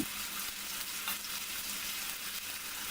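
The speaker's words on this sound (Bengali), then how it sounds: "দেড় টেবিল চামচ পরিমাণ পেঁয়াজ বাটা একটু নেড়ে নিলাম" Onion paste fries in oil in a pan and gets stirred, producing a dense, even hiss of sizzling at a steady level with faint scraping from the stirring and no speech.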